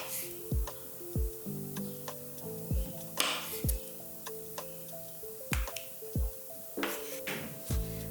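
A knife slices mushrooms on a cutting board in steady, sharp taps about once a second, close and clear, with a faint background hum.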